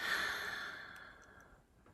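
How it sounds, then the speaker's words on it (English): One long, soft exhale during a guided meditation, a breathy sigh close to the microphone that fades away over about two seconds, with no talk. "taking a deep breath into our hearts"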